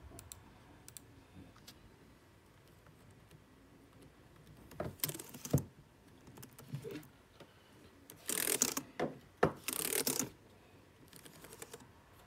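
An Acer laptop keyboard being tested, with scattered light key clicks followed by several louder bursts of rapid typing and clattering, close and otherwise quiet with no speech.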